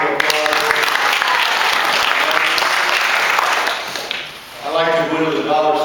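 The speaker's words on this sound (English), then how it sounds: "Let's give them a round of applause." An audience gives a team a round of applause, loud dense clapping that carries on for several seconds, dips briefly, then swells again as voices talk over it.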